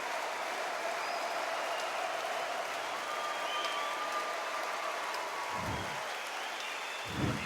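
Crowd noise from the Undisputed boxing video game, a steady dense roar of a big arena audience at carnival pitch that holds level throughout with no voices over it.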